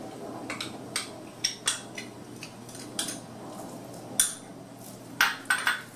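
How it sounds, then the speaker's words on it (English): A spoon clinks and scrapes around a bowl while low-fat plain yogurt and honey are stirred, giving a dozen or so distinct, close, irregular taps. "And we're going to stir that up very nicely"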